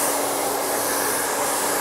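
A hair blow dryer roars steadily and close while it is used with a round brush to dry hair, a continuous loud airy whoosh with no pauses.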